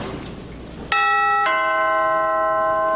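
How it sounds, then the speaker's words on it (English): A doorbell rings with two clear chime tones, the second lower, each ringing out and sustaining loudly in a quiet room. "It's the doorbell, dear."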